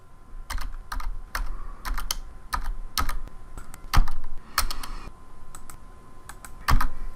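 Enter key pressed repeatedly on a computer keyboard while drawing in CAD software: a dense series of sharp, close clicks and clacks in an uneven rhythm, with a few heavier thumps, no voices.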